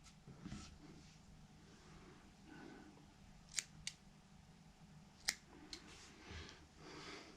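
Small scissors snipping cotton wick on a Geekvape Zeus X rebuildable atomizer, a few crisp, close clicks spaced apart over quiet room background.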